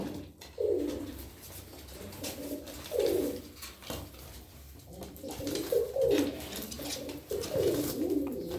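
Several pigeons coo in a coop, repeated throaty bursts swelling and fading every couple of seconds, with wing flutters and scuffling from birds fighting close by.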